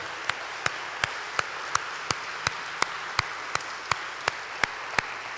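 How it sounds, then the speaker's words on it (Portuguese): Applause at a church worship service, with sharp, evenly spaced claps beating out a steady rhythm over a wash of background crowd noise. "você pode dar o melhor aplauso a esse Deus?"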